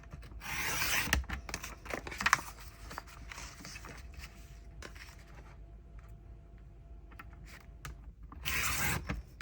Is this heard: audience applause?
no